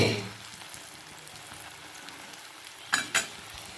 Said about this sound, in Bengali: তো চলো বড়াগুলো আস্তে আস্তে একটু আঁচটাকে কমিয়ে দিয়ে বড়াগুলোকে ভেজে নিই